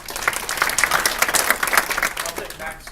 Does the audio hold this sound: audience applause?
yes